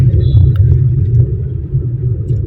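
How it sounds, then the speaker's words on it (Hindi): A car cruising in third gear hums with a steady low engine rumble and road drone, loud and close from inside the cabin, without breaks. "अभी देखिए गाड़ी मेरी 3rd गियर में है"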